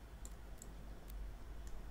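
A computer mouse is right-clicked during 3D modelling in Autodesk Maya: a few faint, sharp clicks spaced irregularly over a quiet room hum.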